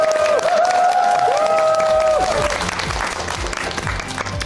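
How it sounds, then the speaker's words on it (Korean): Dense, steady audience applause with some cheering welcoming a lecturer onto a stage, filling the space throughout, while sustained tones from background music run underneath. "여러분 큰 박수로 맞아주세요"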